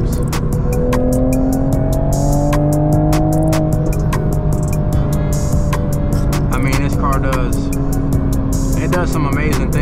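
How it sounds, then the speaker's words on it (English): Turbocharged sports car, a Honda Civic Type R or Toyota GR Supra, revving with rising engine tones, burbling and sharp popping crackles, loud and close, with someone talking over it throughout. "The turbo noise in here is amazing. It burbles, it pops,"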